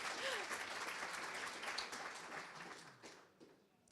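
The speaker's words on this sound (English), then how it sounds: "Let's applause, please." Audience applause at a developers conference, a soft, distant patter of clapping from a crowd that fades out over about four seconds.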